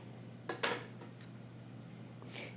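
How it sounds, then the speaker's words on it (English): A knife slices through peaches in a kitchen, giving a few short, crisp cuts and knocks against a board or dish. The sounds are close and sparse, with quiet room hum between them. "Then I'll slice them in half"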